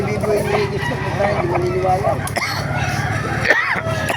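A rooster crows amid a busy chicken market in Baliuag, mixed with clucking fowl and steady background chatter as people talk nearby throughout.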